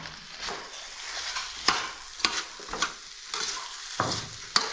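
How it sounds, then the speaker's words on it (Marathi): Vegetables and potatoes sauté with ground whole spices for sambar, sharp spoon clacks against the pan landing every second or so above a soft, continuous sizzle, nearby and without speech. "आता की भाज्या परतून घ्यायच्या"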